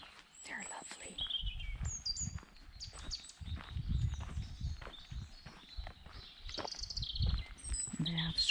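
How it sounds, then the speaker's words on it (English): Birds call and chirp through a wooded area in the early morning, the high thin notes scattered across the clip. Steady footsteps and rustling sit beneath them, and no one speaks. "And you hear the birds."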